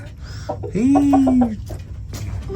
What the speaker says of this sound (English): here's all of our laying hens